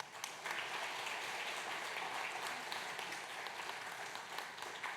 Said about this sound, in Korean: 수료증과 선물을 들 때 박수로 축하해 주시기 바랍니다.